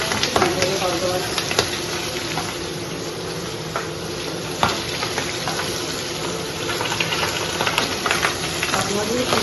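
Fish and mixed vegetables frying in a home kitchen give a steady, fairly close sizzle throughout, with occasional stirring clatter and faint voices in the background.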